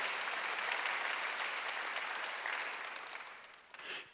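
A church congregation in a gymnasium applauds during a Sunday worship service, steady sustained clapping from a large crowd throughout, fairly distant and even, tapering slightly near the end.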